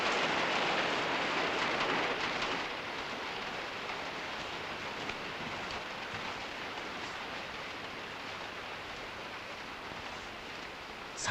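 Steady heavy rain in a Japanese period drama, a dense continuous hiss that is slightly louder at the start and then holds even throughout.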